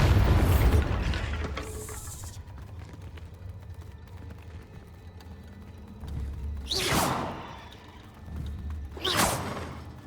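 Bombarda spell blasts in the Hogwarts Legacy video game, two sharp whooshing bursts near the end after a rumbling start, with quieter game ambience between.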